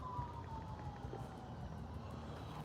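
Faint, distant sirens wail with slowly gliding tones over low background rumble, sounding like several emergency vehicles far away.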